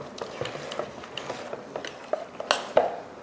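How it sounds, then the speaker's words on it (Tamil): A spoon scrapes and clinks against a bowl of appam batter in a loose, irregular rhythm, close by, ending with a couple of sharper knocks. "சேர்த்துட்டு கலந்துருவோம்."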